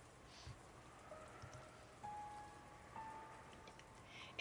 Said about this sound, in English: the meal ended up being so quiet you couldn't ignore the sound of the rain sneaking into the dining hall